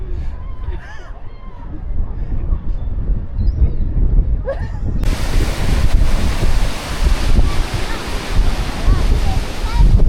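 Ocean surf rolls and crashes on the beach at St Ives, a constant loud wash of breaking waves with wind buffeting the microphone, faint voices in the background.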